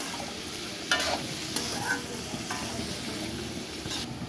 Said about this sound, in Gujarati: હવે આપણે નાખીશું ટમાટર, હવે આપણે નાખી દઈશું થોડુંક નમક। હવે આપણે મિક્સ કરી લઈશું।